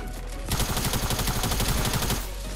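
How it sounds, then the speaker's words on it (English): Rapid automatic gunfire from the video game Fortnite, a dense, loud burst of continuous shots lasting nearly two seconds, then cutting off abruptly. "Oh, I'm getting shot at, boys."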